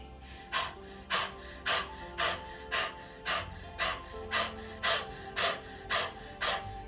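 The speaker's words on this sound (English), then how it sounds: "Keep squeezing the belly up, keep pressing the air out." Forceful exhales come in a steady rhythm during a belly-squeezing breathing exercise, about eleven sharp, close, loud bursts of air at roughly half-second intervals.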